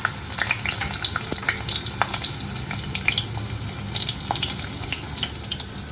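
Garlic cloves frying in hot oil with mustard seeds and fenugreek for a dry fish thokku, a steady close sizzle with crackling pops and occasional stirring scrapes, no talking.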